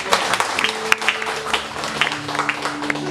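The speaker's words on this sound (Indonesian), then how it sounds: "beri tepuk tangan buat diri kita yang mengerti" A church congregation in Malang claps during a sermon, a loud, close burst of applause with sharp individual claps standing out, while music holds steady underneath and a voice or two is faintly heard.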